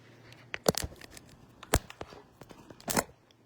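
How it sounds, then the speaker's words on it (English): Quilting thread is cut at a quilting machine with a few sharp, close snips and crinkly ticks spread across a quiet moment, no voices. "I'm going to real quickly cut this thread."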